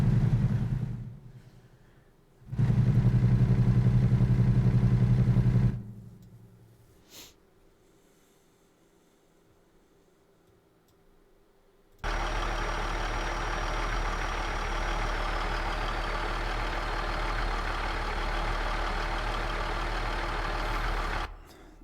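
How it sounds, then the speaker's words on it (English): Peterbilt 579 truck engine brake from game audio: two stretches of loud, steady, rough engine roar, a short one early and a longer sustained run later, with quiet gaps between. "So there's the engine brake, depending on what RPM you're at."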